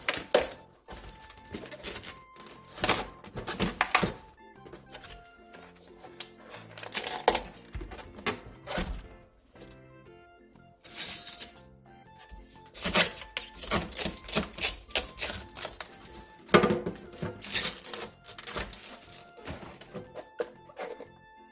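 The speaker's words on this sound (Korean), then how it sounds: "양배추의 초록 겉잎을 떼어낸 뒤 칼로 심을 잘라 정리해 주세요." A knife cuts the core out of a cabbage on a cutting board, producing repeated close crunching and tapping strokes in irregular bursts with short pauses.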